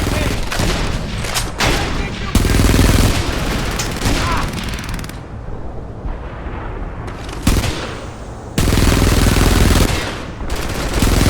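Heavy gunfire and explosions in the video game Frontlines: Fuel of War crackle and boom in loud, dense bursts with brief lulls, under shouted in-game voices.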